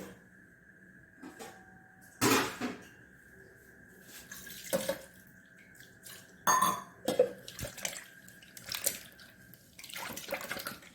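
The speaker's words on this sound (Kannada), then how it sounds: "ಸ್ವಲ್ಪ ತಿರುಗಿಸಿಕೊಂಡು ಒಳ್ಳೆ ಬೀಟ್ ಮಾಡಿಕೊಳ್ಳೋಣ" Wet, sloshing bursts of jowar batter being beaten with water in a bowl, arriving in several uneven splashy strokes with quiet gaps between them.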